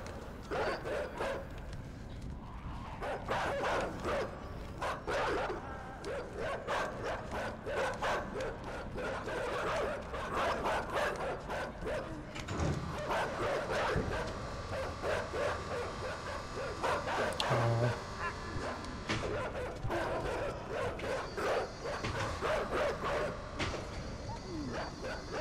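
Dogs in the dark side-scrolling video game Inside bark repeatedly in a rapid, clattering chorus. Mechanical clanks and rustling sounds from the game run underneath at a steady, busy level.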